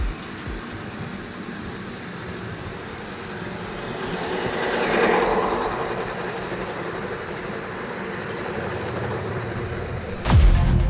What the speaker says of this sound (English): And I hear a train a-coming.